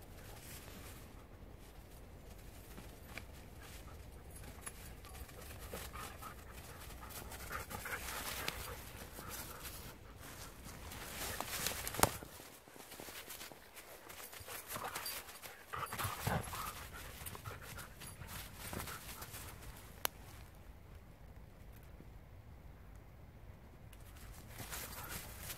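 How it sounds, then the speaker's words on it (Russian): Dogs panting steadily at close range while moving about, with faint shuffling and a few soft whimpers over a quiet background that runs throughout. "Собачки, да?"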